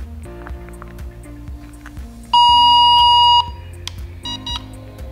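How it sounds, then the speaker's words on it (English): A Lunderg chair alarm going off after its pressure pad is released: a repeating electronic tone pattern, then a loud sustained beep lasting about a second, followed by shorter bursts, close and clear with no talking. "Once released, the alarm should sound, and the sensor light will blink red to indicate the alarm is activated."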